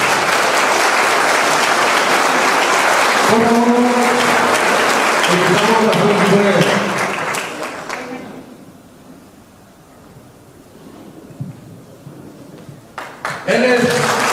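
Loud applause from a gathered audience greets a pastor, a thick burst of clapping lasting around eight seconds with a voice speaking over it. The clapping then fades into a quieter room before a speaker resumes.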